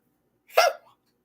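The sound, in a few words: hiccups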